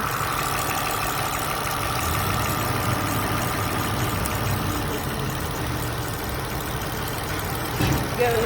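Engine idling during a cylinder balance test as each plug wire is unplugged: a steady loud close idle rumble with a faint dip in tone, with a brief clatter at the end.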